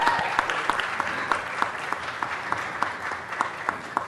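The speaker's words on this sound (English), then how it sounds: "let's give them a big round of applause." Audience applause at a Los Angeles City Council meeting welcoming visiting high school students, a steady broad wash of clapping with scattered sharper claps throughout.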